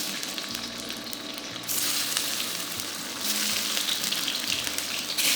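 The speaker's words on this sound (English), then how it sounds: "When the oil is hot, slowly drop in the tofu." Tofu is dropped into hot oil in a pan, a close bright sizzle and crackle that grows louder in steps as more pieces go in, with no talk.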